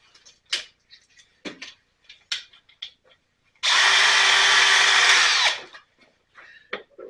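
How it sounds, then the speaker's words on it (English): A 1/2 inch power drill whirs loudly for about two seconds in one sustained burst, framed by scattered clicks and handling knocks before and after. "If I put my drill on it"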